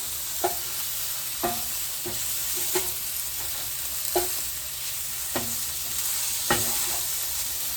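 Pork sausages sizzle steadily in a frying pan, broken by regular clinks and scrapes of a utensil turning them, close up with no speech.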